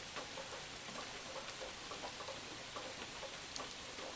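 Steady rain falls outdoors with a soft broadband hiss, scattered drops ticking faintly throughout, distant and even with no voices.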